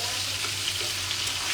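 Fish frying in a pan, heard as a steady, fairly loud hiss of hot oil throughout.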